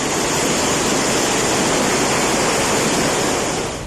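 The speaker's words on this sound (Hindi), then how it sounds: "सड़कों और मोहल्लों से होता हुआ पानी का रेला घरों में दाखिल हो गया।" Floodwater after heavy rain in Karachi rushes as a torrent through streets and neighbourhoods into homes, a loud, steady, continuous roar of flowing water with no break and no voices.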